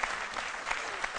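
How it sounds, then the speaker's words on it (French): Studio audience on the set of the RTI 1 midday TV show C'Midi applauds a guest, a dense steady wash of clapping at moderate level with no talk over it. "On va l'applaudir bien fort"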